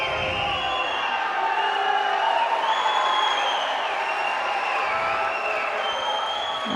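Crowd in a judo arena during a Turkish-Dutch bout, a sustained roar of screaming and cheering that stays loud and steady throughout, with a commentator talking faintly over it.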